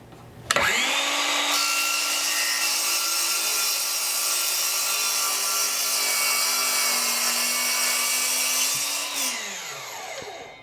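A power saw, likely a miter saw, spins up and cuts through a small wooden shelf piece in one steady, loud, close whine lasting several seconds, then winds down after the cut.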